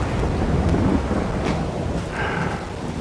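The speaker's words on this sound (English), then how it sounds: "I don't know why the rain's not stopping." Steady rain pours throughout a Farming Simulator 22 storm on a Missouri farm, with low rumbling thunder rolling underneath, a constant dense wash of sound with no voices.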